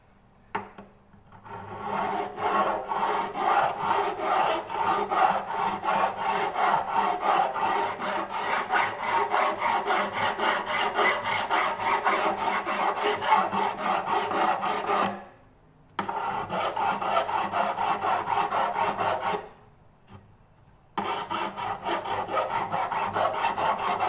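Steady back-and-forth rasping of a file leveling the metal frets of a Yamaha FG300A acoustic guitar, close and continuous, with two brief pauses between runs of strokes.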